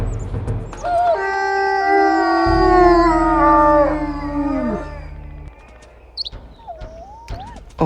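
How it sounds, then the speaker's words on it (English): A coyote in WolfQuest lets out a long, loud, wavering howl that slides down in pitch, followed by a few short, softer yips and quiet clicks. "I don't have the time for you, Coyote."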